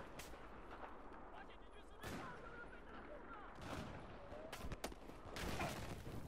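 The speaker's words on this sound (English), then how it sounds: "You're gonna use a freaking grenade launcher?" Grenade launcher blasts and gunfire in Battlefield 4 during online play, several sharp bursts scattered over continuous battle noise with a speaking voice throughout.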